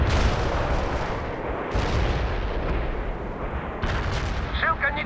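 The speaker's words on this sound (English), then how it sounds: "Вот an artillery barrage." Heavy artillery barrage in the real-time strategy game World in Conflict: dense, continuous rumbling shellfire with overlapping booms and bursts, loud and close throughout.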